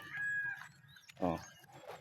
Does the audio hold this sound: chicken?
yes